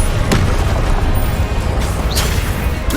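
Confringo explosive spells cast in Hogwarts Legacy, loud bursting blasts amid dense, constant combat noise, with a couple of sharp crackling impacts standing out.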